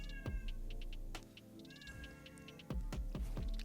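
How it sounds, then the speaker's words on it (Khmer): A pet cat meows repeatedly, with several drawn-out, wavering cries close by over a background of game-like electronic sounds. "ឆ្មារបស់ខ្ញុំយំ"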